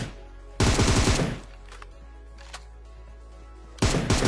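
Rapid automatic gunfire in the game PUBG comes in two loud close bursts separated by a quieter gap with faint in-game sounds.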